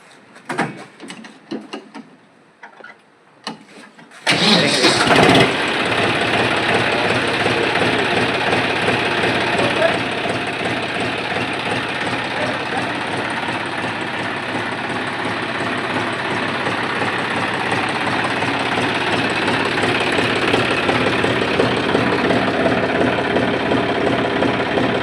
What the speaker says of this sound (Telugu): ఒకసారి స్టార్ట్ చేయండి బండి